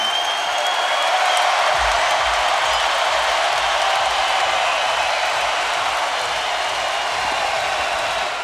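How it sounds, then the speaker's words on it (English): A boxing arena crowd roars at the final bell of the Terence Crawford vs Raymundo Beltran fight in November 2014, a dense, steady wash of cheering that holds for the whole stretch. "When that bell rings, we'll let you listen to the crowd."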